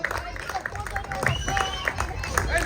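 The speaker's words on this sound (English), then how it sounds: "The clap should go on, please." Audience at a volleyball and throwball league closing ceremony claps steadily, with crowd murmur and voices mixed among the applause throughout.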